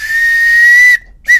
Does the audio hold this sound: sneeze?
no